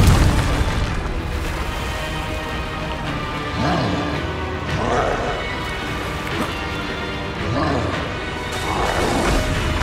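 Spell blasts from the Hogwarts Legacy video game erupt as a series of booming bursts, several heavy impacts recurring every second or two over a dense, continuous wash of game sound.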